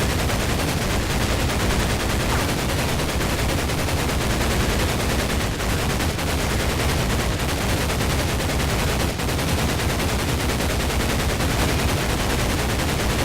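Dense gunfire in Medal of Honor Pacific Assault, a 2004 PC shooter: a loud, unbroken barrage of rapid automatic shots and blasts that runs the whole time and fills the mix, with no voices.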